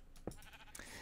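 A faint, short sheep bleat sounds in Minecraft, quiet and brief against low background ambience.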